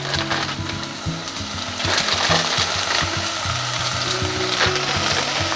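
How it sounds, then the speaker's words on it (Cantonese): Frozen onions hit a hot wok slicked with Korean sesame oil and fry in a steady, close sizzle that holds for the whole stretch, with a low, humming tonal layer running beneath it. "咁首先咧，我就會落咗洋葱先嘅"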